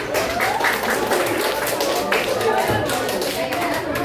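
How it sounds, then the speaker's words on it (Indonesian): A classroom of students claps for their female teacher, a busy, continuous patter of hands with voices mixed in throughout. "tepuk tangan untuk Ibu"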